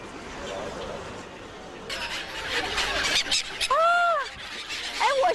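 Seagulls gather at Lake Dianchi as people feed them, their squealing calls rising over a crowd murmur, with a few loud, close cries near the end.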